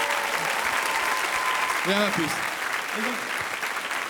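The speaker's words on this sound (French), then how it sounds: "Priscilla, on applaudit parce que c'est pas évident" A television studio audience claps steadily throughout, a loud, dense applause under a short spoken line to a child on a French kids' talent show.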